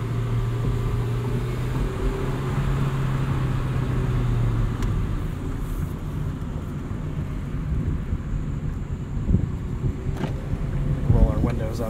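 Engine of a 1999 Honda Civic Si with VTEC heard from inside the cabin while driving, a steady droning hum under road rumble that rises and falls with throttle.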